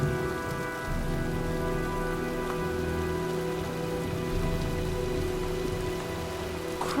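Steady heavy rain pours down in a storm scene from the video game Heavy Rain, a dense continuous hiss with faint low rumble beneath and no voices.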